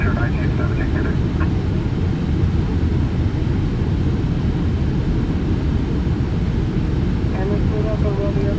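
Steady, loud engine and airflow roar inside the cockpit of a Boeing 747 jet on approach and landing at New York JFK, continuous throughout, with faint radio voices briefly audible early on.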